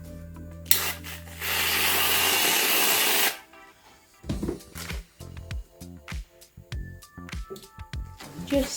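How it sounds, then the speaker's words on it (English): Container of cream for a pumpkin spice latte shaken hard in one sustained burst of rattling, sloshing noise, followed by scattered knocks and handling clatter with a voice talking between the sounds. "we need to just shake up the cream"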